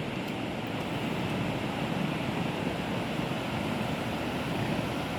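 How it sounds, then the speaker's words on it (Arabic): Sea waves roll steadily onto the shore, a continuous broad wash of surf close by with some wind, no talking. "هانتوما سمعوا لي الصوت ديال البحر"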